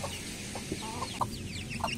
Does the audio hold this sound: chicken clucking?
yes